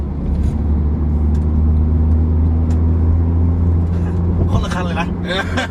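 2012 Honda City engine revs after catalytic converter cleaning for a P0420 fault, a loud close idle hum that rises and falls, with people talking over it near the end.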